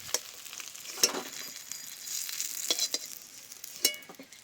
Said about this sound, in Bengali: মাছগুলো বেশ সুন্দর করে শক্ত করে ভেজে নিয়েছি একটু টাইম ধরে, এবারে তুলে নিচ্ছি।